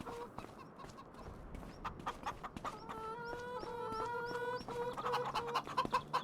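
Chickens cluck repeatedly inside the Farming Simulator game, a busy farmyard chatter of fowl calls running steadily through the whole stretch with bright, rising bursts toward the end.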